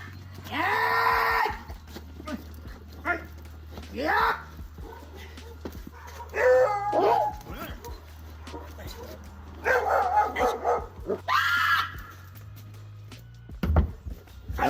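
A Dutch shepherd working dog barks in loud bursts spread across the clip, with people talking and shouting in between during a K9 protection training session.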